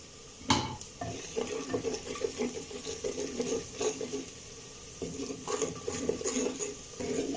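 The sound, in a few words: spices being fried and stirred in a pan for daal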